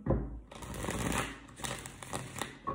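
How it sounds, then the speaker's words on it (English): A deck of cards is shuffled close by, a burst of rapid riffling flutter followed by several shorter riffles and soft clatters as the cards are bridged and squared, with no talking. "Gavin likes the way I shuffle, by the way."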